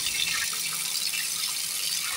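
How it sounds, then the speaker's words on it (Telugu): Freshly gathered mushrooms are washed under running tap water, a close, steady hiss of flowing water with no talk over it. "ఇలా మన్ను మొత్తం రుద్దుతూ క్లీన్గా కడుక్కోవాలి"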